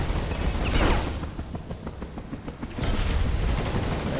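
Vehicle-mounted weapons fire in the Transformers: Revenge of the Fallen game, a loud burst of rapid shots with a boom up front, then a quieter stretch of clattering fire before another heavy volley.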